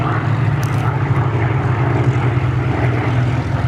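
A Messerschmitt Bf 109 propeller fighter passes over a grass airfield at an airshow during a Battle of Britain re-enactment, its engine a steady, loud, continuous drone holding throughout with no speech over it.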